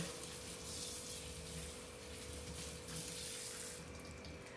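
Tap water runs steadily into a sink over a cast iron pan being rinsed after seasoning, a continuous close splashing rush with no pauses.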